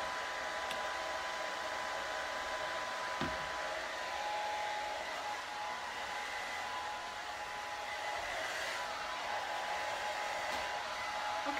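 A hair dryer blows steadily on curly hair, a loud, even whoosh that holds for the whole stretch with only slight shifts as it moves, alone without voices.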